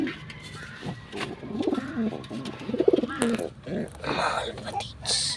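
Pigeons coo close by in soft, rounded bursts that rise and fall, with low murmuring voices and some rustling mixed in.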